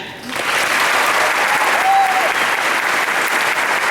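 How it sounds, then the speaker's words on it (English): A graduation audience applauds loudly and steadily, a dense wash of many hands clapping close up that builds within the first half second and holds for the rest. "please give a round of applause after each of the following"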